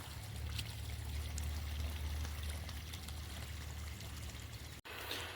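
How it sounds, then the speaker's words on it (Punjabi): A motor-driven water pump sends a steady, continuous stream of water pouring into a pit, a constant wash with low motor hum, unbroken apart from a brief dip near the end. "ਲਓ ਜੀ ਮੋਟਰ ਚੱਲੀ ਜਾਂਦੀ ਆ ਤੇ ਟੋਆ ਬਸ ਭਰਨ ਵਾਲਾ ਹੀ ਆ"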